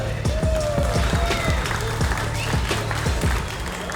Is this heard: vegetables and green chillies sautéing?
no